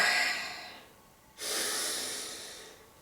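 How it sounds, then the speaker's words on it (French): Deep breathing as a calming exercise: one long, close breath trails off into a brief pause, then a second strong breath starts abruptly and slowly fades out. "vous faites respiration, vous respirez bien"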